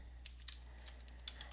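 Quiet keystrokes on a computer keyboard as a web address is entered, a handful of light, evenly spaced taps over a steady low hum.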